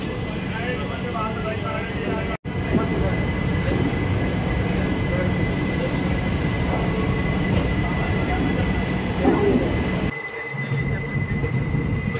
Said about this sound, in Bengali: ট্রেন এখন ছাড়লো চারলাপল্লী